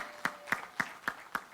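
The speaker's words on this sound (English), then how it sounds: "Round of applause even as the director puts her pen to paper." Five separate sharp claps at a steady beat of about one every quarter second, fairly faint, from a small gathering marking a document signing at a logistics gender-inclusion event, with no talk over them.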